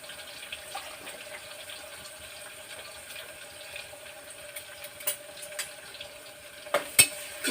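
Chopped onions fry in a pan for a bitter gourd curry, giving a steady low sizzle throughout with a few sharper stirring clinks and pops near the end, no voices.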